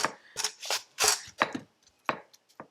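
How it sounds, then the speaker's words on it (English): Crisp, close slicing strokes as a cucumber is pushed across a kitchen slicer, about eight uneven cuts in quick succession with short pauses between them. "I love this for slicing cucumbers."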